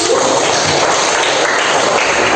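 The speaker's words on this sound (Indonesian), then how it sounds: "Kita tepuk tangan dulu." A classroom full of students claps together in a loud, dense, continuous burst of applause, close by and with no talk over it.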